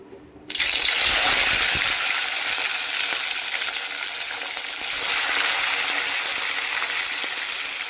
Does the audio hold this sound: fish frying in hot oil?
yes